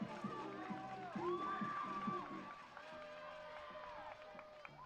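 A men's lacrosse team on the sidelines of a women's varsity lacrosse game cheers and shouts at a distance, with mixed voices rising and falling over a lively crowd.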